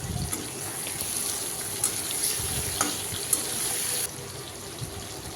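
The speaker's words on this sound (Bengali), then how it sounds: "এবার দিয়ে দেব কিছুটা জল।" Water is poured into a pan of prawn gravy for a Bengali oil-prawn dish, a soft continuous trickle and splash with a few small clinks, fairly faint and with no talking.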